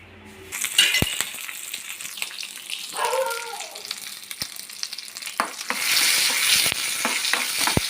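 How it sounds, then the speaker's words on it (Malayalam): Mustard seeds and special dried chillies crackle and sizzle loudly in hot oil while tempering a Kerala theeyal, with a brief stirring scrape midway and a burst of intense spattering toward the end. "ഇനി ഇതിലൊരു വറുത്തിട്ടും കൂടെ കാണിച്ചു തരാം"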